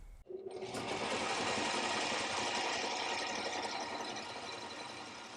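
A metal lathe starts up and runs with a steady, loud, dense mechanical whir and hum, its cutting tool being brought toward the inside diameter of the workpiece, continuous and close.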